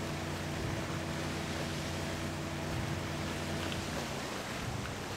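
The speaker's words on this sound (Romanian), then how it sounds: "Hai că e rapid și cu barca." Boat speeding across water in the video game Sleeping Dogs, a steady engine drone with constant splashing wash, loud and unbroken throughout.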